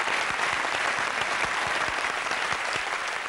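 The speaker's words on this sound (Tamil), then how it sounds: "VTV கணேசருக்கு ஒரு மிகப்பெரிய கைத்தட்டு ரெண்டு சைடுல இருந்தது." A studio audience on a Tamil television talk show applauds loudly, a thick, continuous roar of many hands clapping with a few sharper individual claps standing out nearby.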